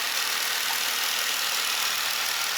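A 2016 Jeep Wrangler Unlimited Sahara engine runs at a steady idle under an open hood, recorded close to the air intake as an even, continuous rushing drone with no voices.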